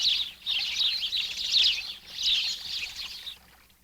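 A dense chorus of many birds chirping and twittering together in fir trees, high bright calls in overlapping waves, fairly close, with no talking.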